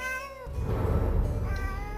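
A cat meows as an audiobook sound effect: one drawn-out, plaintive meow over a low rumbling ambient bed, close and clear with no voice over it.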